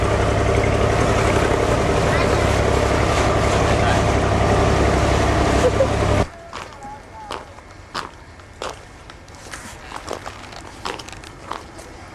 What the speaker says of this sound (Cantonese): 而家我哋坐緊隻船啊